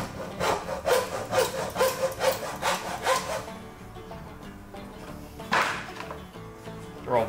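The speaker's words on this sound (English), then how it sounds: "I said to use a hacksaw." A hand hacksaw cuts through the end of a steel mower blade in rhythmic back-and-forth strokes, about five quick rasping passes followed by a pause and another stroke, close and clear with no talking.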